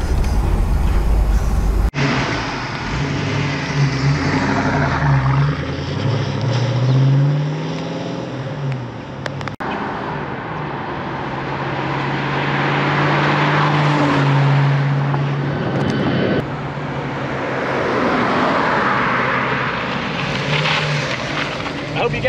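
A 1986 Ford Mustang GT 5.0 convertible with a 5-speed drives on a test run, its engine droning steadily with rises and falls as it accelerates, heard from inside the car under wind noise.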